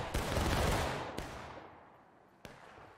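A musket volley in the War of Rights video game, set among hay bales: a loud, broad crackling blast that rolls out and fades over about a second, followed by two sharp isolated shots.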